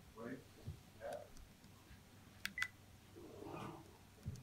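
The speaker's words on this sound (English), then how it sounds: "He's calling his phone, and the ringtone to his phone, Tati's phone, goes off." Phone keypad dialing tones, a short pair of quick electronic beeps, sound faintly in a room during a lecture, with speech murmuring around them.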